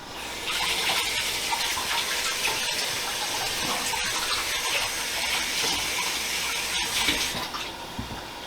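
Potatoes rinsed under a running kitchen tap make a steady rushing, splashing stream of water that stays close and even for several seconds with no voices.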